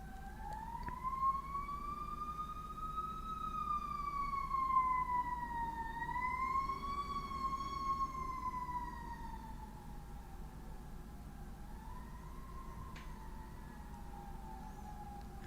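Emergency vehicle sirens wail as they pass, a long rising and falling tone sweeping up and down for about fifteen seconds, fairly loud and steady over low traffic rumble, with no talking.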